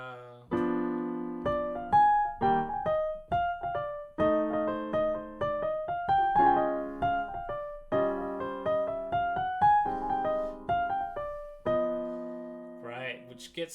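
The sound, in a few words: piano playing a solo jazz line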